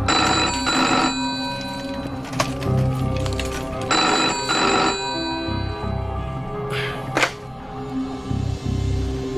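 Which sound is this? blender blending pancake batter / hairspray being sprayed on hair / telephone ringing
telephone ringing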